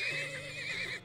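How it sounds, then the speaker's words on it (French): A horse whinnies in the video game Turmoil, a single close, wavering high-pitched neigh lasting about a second before cutting off abruptly. "Cheval."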